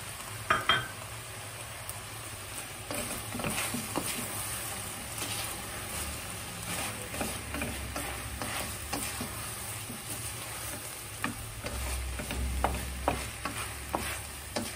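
Tomatoes frying with meat for kavurma: a steady low sizzle runs throughout, with frequent scraping and stirring clicks of a utensil against the pan.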